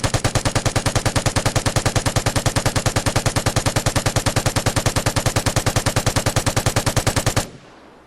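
An LMG light machine gun in the video game Vigor fires one sustained automatic burst of rapid, evenly spaced loud shots for about seven seconds, then stops abruptly with a short fading tail.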